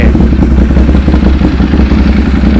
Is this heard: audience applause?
no